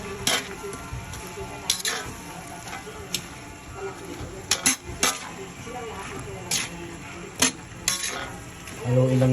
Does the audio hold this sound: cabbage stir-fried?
yes